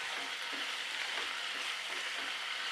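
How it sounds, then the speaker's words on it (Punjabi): Onions frying in a pan for kadai paneer, a steady hiss and crackle of sizzling oil, even and close, with no voices. "ਇਹਦੇ ਵਿੱਚ ਹੀ ਆਪਾਂ ਪਿਆਜ਼ ਪਾ ਦਾਂਗੇ ਫਰਾਈ ਹੋਣ ਲਈ"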